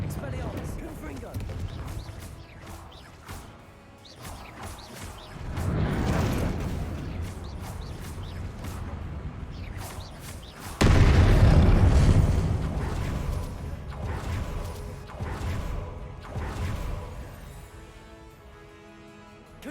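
Confringo fire-spell explosions burst in Hogwarts Legacy over a rumbling background: a heavy blast around the middle, then a louder, deeper boom that rolls on and slowly fades, with crackling hits in between.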